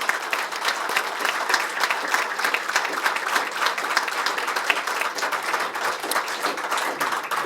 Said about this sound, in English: please join me in a warm round, hand across the border applause for Lieutenant Purcell